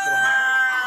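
Local chickens at a commercial poultry farm give a brief, close clucking call lasting under a second.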